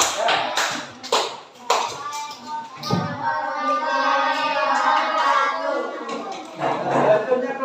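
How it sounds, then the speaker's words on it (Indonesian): Classroom audience claps for student groups, scattered sharp hand claps at first that thicken into a brief ragged round of applause, with voices murmuring and talking in the room. "Nah, tepuk tangan pada kelompok kedua, kelompok ketiga."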